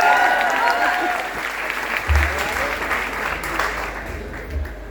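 Audience applause at a Vestige Y.E.S. program in Agra, a broad steady wash of many hands clapping that carries on for several seconds and gradually eases.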